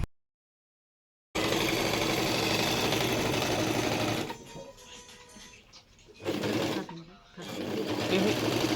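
Electric sewing machine stitching cloth at home, a loud steady whirring run that halts briefly, then resumes in short bursts.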